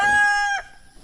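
A single chicken gives a loud, clear drawn-out call up close on a small farm at feeding time, then it cuts off into quiet.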